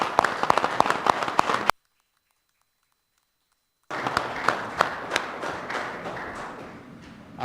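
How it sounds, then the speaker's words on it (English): A small audience at a county commissioners court meeting claps in two bursts separated by a brief silence, with sharp individual claps audible, the second burst fading gradually. "I want to give them a round of applause"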